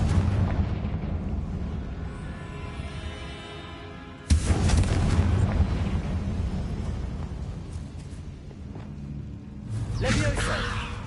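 A Confringo blasting spell goes off in a Harry Potter video game, a sudden loud boom that cuts in partway through and leaves a long rumbling, crackling tail, with a second swell of blast noise near the end over game ambience and voices.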